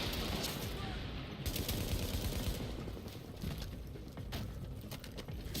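Bursts of gunfire from a firefight in The Division video game on PC, a rattling run of shots over a busy, noisy background with speech faintly mixed in.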